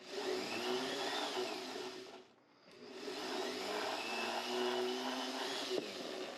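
A Texas quarter coin ring polished on its inside, a steady whirring rotary grind close by, dipping briefly midway before resuming at a constant, loud level with no talking.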